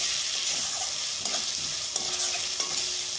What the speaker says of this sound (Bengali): ভালো করে যতক্ষণ না আদার গন্ধ যায় ততক্ষণ আমি একটু ভালো করে কষিয়ে নেব